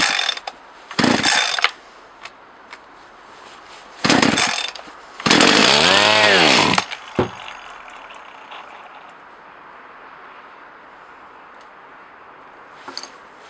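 A Partner Formula 60 chainsaw, its carburetor suspected faulty, fires in short bursts: two brief sputters, then a longer rising rev that falls away as the engine dies, leaving near-silence with a few faint clicks.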